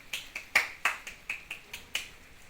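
An elementary school class claps for a pupil, about nine crisp, separate claps in a steady, patterned rhythm, fairly light and close in a quiet classroom, with no talk over them.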